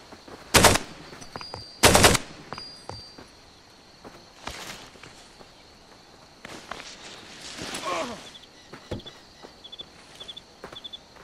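Bursts of gunfire from the video game Far Cry 2, with two loud close shots early, then scattered fainter pops, shuffling movement and bright electronic blips between them.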